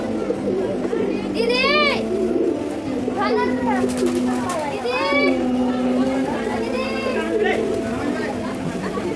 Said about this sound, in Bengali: আর একটা ছোট্ট চিড়িয়াখানা কাঠগোলা বাগানের ভিতরেই অনেক কবুতর